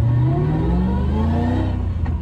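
A BMW E34 with freshly serviced sub-frame bushings accelerates along a street, its engine note rising steadily as it pulls hard, loud and close from inside the car.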